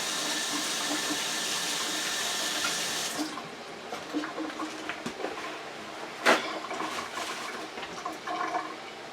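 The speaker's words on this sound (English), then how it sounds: "Let me wash my hands." A kitchen tap runs steadily for a few seconds while hands are washed, then the flow stops and gives way to drips, splashes and handling sounds nearby, with no one speaking.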